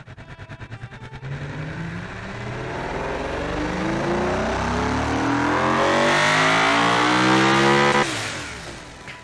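A car engine in the video game Frozen Valley Engineering idles with a pulsing rumble, then revs up and climbs steadily in pitch for several seconds before dropping off abruptly.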